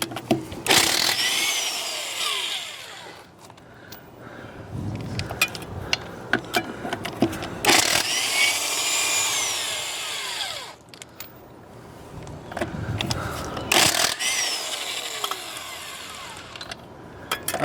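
Bursts of a power impact tool spinning off lug nuts from a Montana fifth wheel trailer tire, three loud rattling runs separated by brief pauses, with clinks and shop noise between them.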